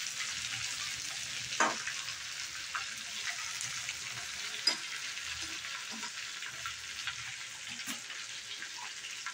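Brinjal (vanga) slices stir-fry in a pan, a soft, steady sizzle with occasional scraping and tapping from a spatula, heard close and fairly quiet with no talking.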